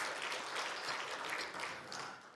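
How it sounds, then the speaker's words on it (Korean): Church congregation clapping during a Sunday worship service, a soft, diffuse wash of applause from many hands that stays fairly even before fading slightly at the end. "우리 하나님께 영광의 박수 드립니다."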